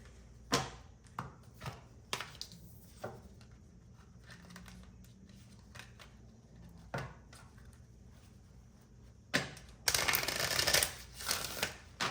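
Tarot cards are shuffled in quiet, intermittent riffles and taps, ending in a louder burst of rapid shuffling near the end.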